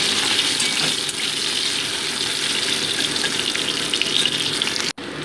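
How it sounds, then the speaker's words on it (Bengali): Chopped potatoes fry in hot oil in a wok, a loud, steady close sizzle and crackle running throughout with a brief break near the end, no talking. "এবার আমি কুচিয়ে রাখা আলুগুলো আগে অ্যাড করে দিচ্ছি, দিয়ে মোটামুটি 2 মিনিট এটাকে ভেজে নিচ্ছি"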